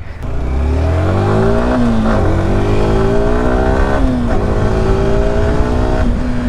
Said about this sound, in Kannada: ಸೊ ಗಾಡಿ ಸ್ಟಾರ್ಟ್ ಮಾಡೋಣ ನಿಮ್ಗೊಂದ್ಸಲ ಎಕ್ಸಾಸ್ಟ್ ನೋಟ್ ಕೇಳಿಸ್ತೀನಿ